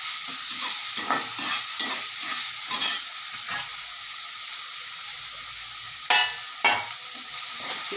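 Gravy ingredients with cinnamon, cloves and cardamom sizzling and being stirred in a kadai for egg mundiri gravy, steady frying hiss with repeated scraping strokes of a spoon against the pan.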